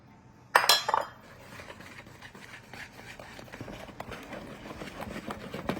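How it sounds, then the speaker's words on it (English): Ingredients whisked together in a bowl for an easy dessert: a loud clatter at the start, then a steady run of rhythmic metallic clinks and scrapes of the whisk against the bowl, close and continuous. "we'll throw them in here and whisk it all together"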